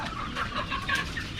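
Live chickens cluck steadily in a busy traditional Korean market, several birds close by with overlapping bursts of clucking and crowd bustle behind, no talk.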